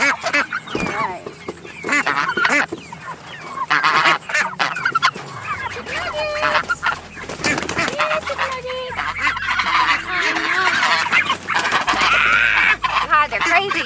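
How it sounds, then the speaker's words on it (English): A noisy flock of ducks and geese on a farm quacks and honks loudly and constantly, with calls overlapping at close range and a person speaking now and then among the birds. "Ducks."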